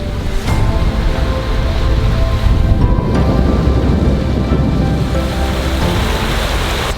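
Steady rush of wind and water along the hull of a sailboat running downwind at about seven knots, constant and loud with wind buffeting the microphone, no talking.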